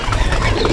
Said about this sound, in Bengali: এগুলো হলো আমার বাহিরের মাদি কবুতর, যেটাকে আমরা ফিমেল বলি